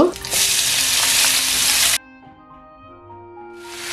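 Sliced large onions hit hot oil with a loud, dense sizzle lasting two seconds, then drop to a quieter simmering hiss before the frying builds again, all close and with no talk.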